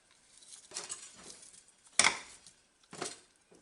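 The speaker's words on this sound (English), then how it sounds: "now I want to add a cup and a half of frozen cherries" Frozen cherries going into a pot of braising beef short ribs, a few separate bursts of rattling and clattering with quiet gaps between them.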